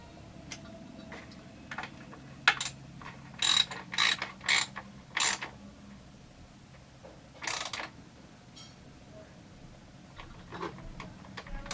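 Ball-head Allen wrench turning bolts during assembly of a Husqvarna 394xp chainsaw, a series of close ratcheting clicks and short metallic turns in bursts, with quiet gaps between and no talk.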